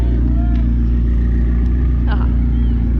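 A McLaren supercar arriving at a charity car event, a loud steady low engine rumble close by, with people talking over it.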